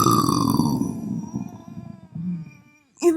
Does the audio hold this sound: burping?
yes